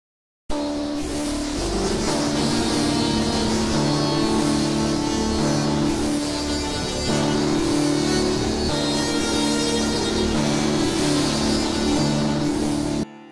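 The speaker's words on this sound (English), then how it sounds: "I'll come down to this Yali tambour and let's check this out." A Yali tambour sample from the EastWest RA virtual instrument, heavily effected, produces a dense, shimmering, metallic strummed texture. It is loud and continuous for about twelve seconds, with no voices.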